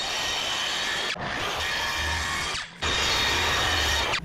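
A teak wood piece for a boat's bow head door being cut with a power saw, loud continuous rasping bursts broken by two brief pauses, close and without talk.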